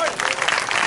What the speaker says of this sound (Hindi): ताली मारो जोर से हालेलुया।